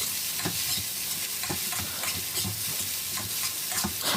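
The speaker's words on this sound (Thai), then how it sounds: "ใส่ลงไป นี่เลย อ่าผัดคลุกเข้ากันอีกสักเล็กน้อยครับ" Seafood fried rice with carrot and onion being stir-fried in a hot pan, with a steady sizzle and regular scraping strokes of the spatula repeating about once a second, close and continuous.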